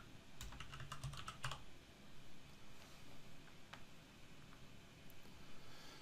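Someone types on a computer keyboard, producing a quick cluster of faint, clicky key taps at the start and then sparse single taps over a soft, noisy room background, with no talk.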